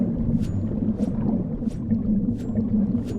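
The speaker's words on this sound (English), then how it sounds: "Collecting seaweed." Seaweed being collected in the survival game Bermuda Lost Survival, heard as a low watery rumble with about five short swishing rustles spaced roughly evenly, fairly close and alone without speech.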